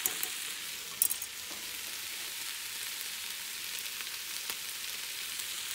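Chouriço with cauliflower cooks in a small non-stick pan under a quiet, steady sizzle, with a few light clicks of chopsticks stirring against the pan.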